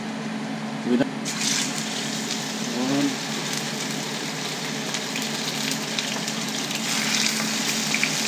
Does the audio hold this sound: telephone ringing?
no